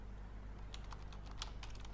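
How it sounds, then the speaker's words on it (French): Typing on a Logitech computer keyboard, quick irregular keystroke clicks over a low steady background hum, faint and close, with no speech. "Donc là c'est un clavier Logitech"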